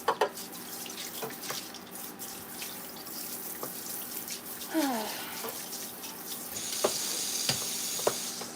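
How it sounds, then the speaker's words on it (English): Water runs from a kitchen faucet while something is rinsed out, a steady rushing flow with small clinks and splashes, swelling louder near the end, with no talking. "let me rinse this out real quick"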